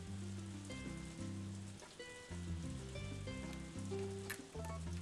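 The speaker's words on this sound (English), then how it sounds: "So another rainy day." Rain falls in the farming video game Harvest Moon: Another Wonderful Life, a soft steady patter heard alongside sustained low musical tones from the game's background music.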